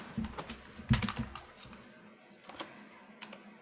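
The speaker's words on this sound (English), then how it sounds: "So let me grab my keyboard and type something here in the Google." Typing on a computer keyboard, close and fairly quiet, with irregular clusters of key clicks that thin out toward the end.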